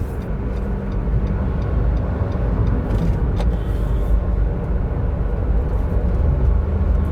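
Nissan Micra with a CVT automatic gearbox driving along an open road, a continuous engine and tyre rumble heard from inside the cabin, loud and steady with light intermittent clicks.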